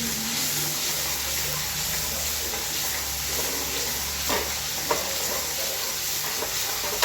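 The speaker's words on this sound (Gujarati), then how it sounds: "તેલ આવી ગયું છે અને પનીર નાખી દીધું છે." Paneer cubes fry in hot oil for paneer tikka masala, a loud, continuous close-up sizzle and crackle that holds steady throughout, broken only by a couple of faint clinks.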